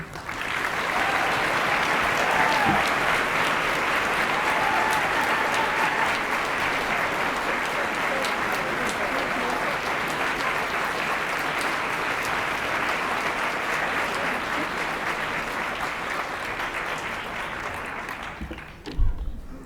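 A conference audience applauds a speaker, Pamela Carter, in a long, even burst of many hands that holds steady for most of the stretch, then fades and stops near the end, where a faint voice briefly appears.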